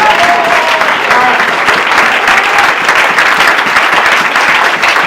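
A church congregation applauds and cheers during a Sunday worship service, dense steady clapping filling the room for the whole stretch, with faint voices and a brief tonal sound near the start.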